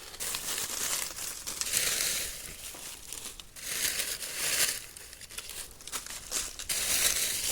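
Dry leaves are crumpled and scattered by hand around a handmade craft giraffe, making close, crisp crinkling and rustling in repeated bursts with brief pauses between them.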